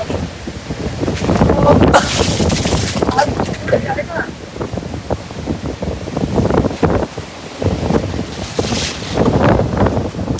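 Strong wind gusts roar across a city balcony during heavy monsoon rain in Mumbai, a loud, continuous rushing buffet with surges near the start and end, rain mixed in throughout.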